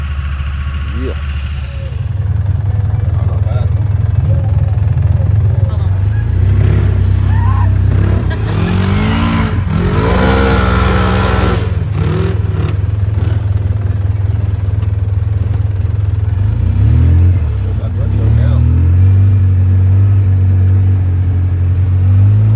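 A 2019 Honda Talon side-by-side idles loudly up close, its engine revving up through a rising, clattering surge in the middle before settling back to a steady rumble, with voices in the background.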